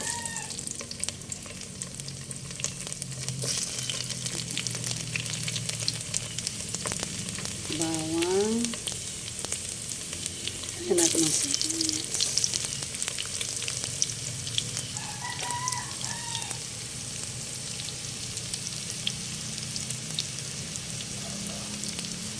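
Garlic sizzling steadily in hot cooking oil for tinola-style fish, a dense continuous crackle with a few faint background tones and brief clinks, no talking.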